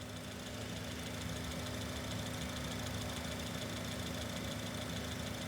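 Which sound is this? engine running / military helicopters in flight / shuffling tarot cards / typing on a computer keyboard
engine running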